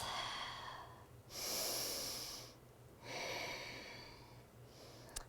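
Slow, deep breaths taken while holding a yoga wrist stretch with the hand pressed into the mat: two long airy exhales, a quieter inhale and another exhale, close and soft, with no talking.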